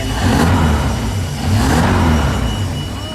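A MerCruiser 5.0 boat engine runs loudly and steadily close by, its pitch swelling as it revs up twice over a continuous rumble.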